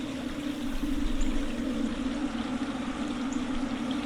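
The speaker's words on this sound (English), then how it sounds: "Only the murmur of the small stream under the bridge" Small stream murmuring beneath a bridge, a steady low rushing wash of water with a soft trickling texture, continuous and fairly close, with no voices.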